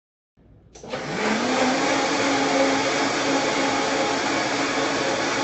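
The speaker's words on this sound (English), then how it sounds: "an environment where there's a blender running in the background" A blender starts up in the background, picked up through a Jabra Evolve2 50 corded USB headset, then settles into a steady, loud whirring drone that runs unbroken to the end.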